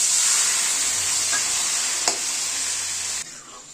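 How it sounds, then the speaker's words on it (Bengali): Water is poured into a banana flower curry cooked with chana dal. A loud, close sizzle hisses steadily, with a single clink midway, then abruptly drops quieter near the end. "এই পর্যায়ে আমরা এখানে জল ঢেলে দেবো"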